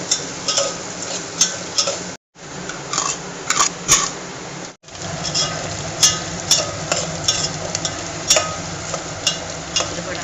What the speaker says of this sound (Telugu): ఆయిల్, దినుసులు, జీడిపప్పు, ఆనియన్స్, ఎండుమిరపకాయలు అన్నీ కూడా ఈ విధంగా ఫ్రై అవుతాయి అన్నమాట